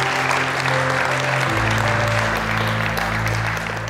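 A church congregation claps their hands together, a dense, sustained burst of applause over steady held tones, filling the whole stretch without any speech.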